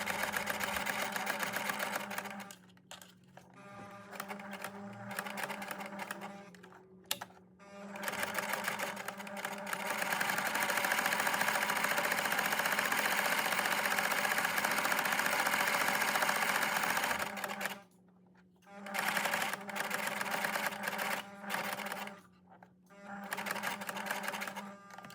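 A sewing machine stitches a clothesline rug in long continuous runs, its steady mechanical whir stopping briefly a few times before resuming, close and fairly loud.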